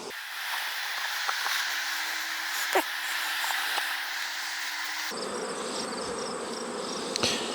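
A honey bee colony drones steadily on a brood frame lifted from the hive, a close, continuous hum with a few faint clicks and a change in tone partway through.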